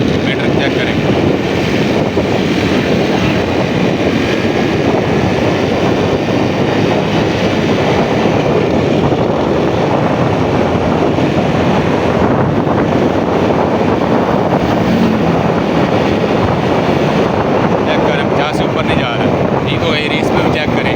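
A Honda CD 70 motorcycle at full throttle makes a loud, continuous engine roar heavily mixed with wind buffeting on the microphone, steady for the whole stretch.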